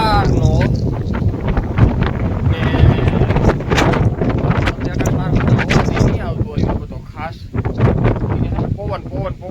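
Strong wind buffets the microphone in heavy, continuous gusts, with people talking faintly underneath the roar.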